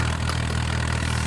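A tractor engine runs steadily at a close, loud idle with a low, even rumble throughout.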